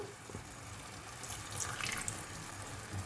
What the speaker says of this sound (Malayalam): ഒരു 1/4 കപ്പ് വെള്ളം കൂടി ഒഴിച്ചു കൊടുക്കാം.